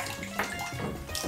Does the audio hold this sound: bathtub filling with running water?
yes